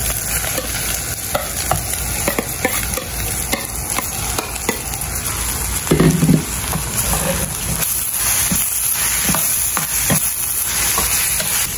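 Shredded chicken for chicken pastil fries and sizzles steadily in a pan with onions, stirred constantly with scraping clatter throughout.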